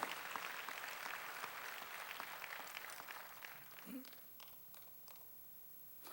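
A church congregation at a Wednesday worship service claps together, a soft, distant spatter of hands that thins out after a few seconds, with a brief voice in the middle.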